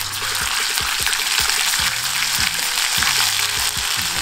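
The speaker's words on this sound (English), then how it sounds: "I am going to add 1 tablespoon of ginger garlic paste and saute it for 10 seconds." Ginger garlic paste sautéing in hot oil in a cast iron kadai, a steady loud sizzle with faint stirring clinks and taps throughout, no voices.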